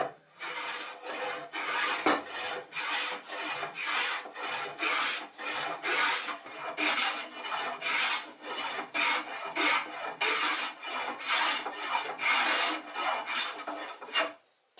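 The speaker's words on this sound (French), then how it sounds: "je prends un rabot qui a un fer pas mal sorti et puis j'attaque l'angle." Hand plane with a well-extended iron shaving the corner edge of a piece of wood, about twenty rhythmic rasping strokes in a steady back-and-forth series, fairly close and unaccompanied by speech.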